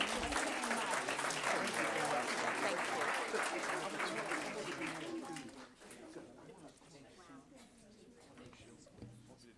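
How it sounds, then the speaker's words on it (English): Audience applause at a school board meeting, a loud burst of clapping across the room that fades after about six seconds, leaving a quieter murmur of people talking. "Can we give them a round of applause?"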